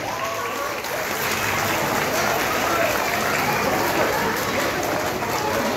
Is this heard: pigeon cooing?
no